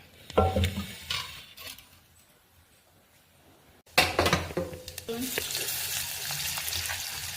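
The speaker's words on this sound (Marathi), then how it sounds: "आता फोडणी टाकूया." Spices for a tempering hit hot oil while taro-leaf curry is being cooked. Close utensil clatter comes first, then a loud, sustained crackling sizzle that continues to the end.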